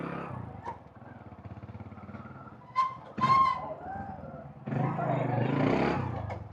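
A 1995 Honda CD100 motorcycle on a city ride in Kathmandu: a steady engine drone with a brief rising rev near the middle, then a louder, rougher rush of engine and wind noise toward the end.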